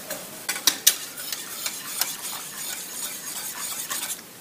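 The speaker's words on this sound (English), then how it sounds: "Make sure everything's incorporated thoroughly. Whisk really well." A whisk beats flour-thickened pastry cream for banana cream pie in a pot, giving a quick run of sharp scraping strokes up front that settle into a softer, steady swishing close by.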